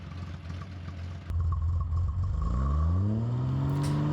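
A pre-1995 six-cylinder vehicle engine idles, then revs up to a held 3,200 RPM, its rising harmonic tone steady and loud, close by during exhaust sound testing.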